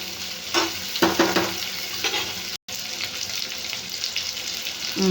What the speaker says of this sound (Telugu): ఇప్పుడు బాగా ఫ్రై చేసుకోవాలి